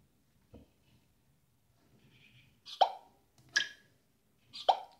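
Three short, bright electronic plops from an Elephone S8 smartphone's fingerprint sensor, each a quick chime-like blip, close and isolated against near silence.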